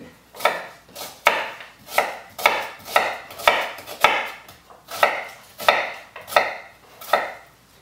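Knife chopping potatoes and onions on a board while preparing jajangmyeon, a steady series of about a dozen sharp, evenly spaced chops, close and loud, with no talking.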